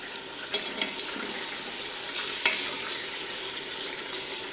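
Meat and bones for nihari sizzle steadily in a pot, a continuous soft frying hiss broken by a few scraping stirs and small clinks, moderately quiet and without talk.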